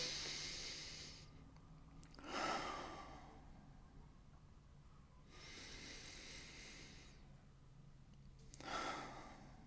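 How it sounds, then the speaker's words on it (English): Slow, deep breaths, in through the nose and out through the mouth, come as soft airy hisses that swell and fade in long, even cycles, quiet and close. "now a couple deep breaths to begin. In through your nose, out through your mouth"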